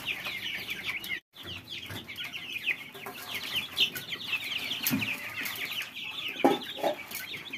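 Month-old baladi chicks, a close flock peeping and clucking continuously in rapid high chirps, with occasional louder calls and faint rustling, no speech.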